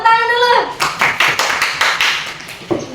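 Children clap together in a classroom, with a short run of quick, loose, slightly ragged claps following a brief sung or spoken voice, near and fairly loud.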